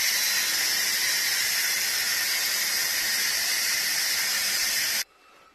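An Instant Pot cooking hard-boiled eggs vents its pressure in a loud, continuous steam hiss that stops abruptly near the end, leaving quiet.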